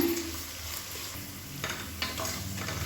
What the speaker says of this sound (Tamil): இப்போ உருளைக்கிழங்கு நல்லா வதங்கிடுச்சு.